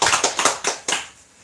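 Church congregation claps in welcome during a Sunday worship service, a short burst of four or five clustered claps close by, then fading out quickly.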